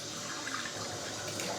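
Cold tap water runs steadily into a bathroom sink for rinsing the face after a straight-razor shave, a continuous broadband splash without talk.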